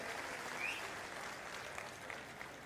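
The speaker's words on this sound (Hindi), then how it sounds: "मैं चाहता हूं एक बार जोरदार ताली उनके लिए बजाएं." Applause from a crowd at a Maharashtra election rally for Maha Vikas Aghadi candidates, a steady, fairly distant wash of clapping that continues evenly for the whole stretch without voices over it.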